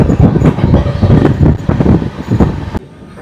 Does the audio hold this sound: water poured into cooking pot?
no